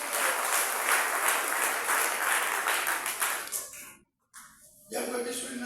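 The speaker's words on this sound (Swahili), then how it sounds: "Pigia Yesu makofi." A church congregation claps together for Jesus in a sustained burst of applause that fades out after a few seconds, then a voice speaks briefly afterward.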